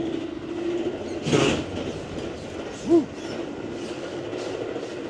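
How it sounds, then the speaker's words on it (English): Sleeper train from Montreal to Halifax rocking along the rails, a steady low rumble with a louder bump near the start and a single sharp clank a little later, heard from inside a carriage. "this train's rocking and bumping and whatnot"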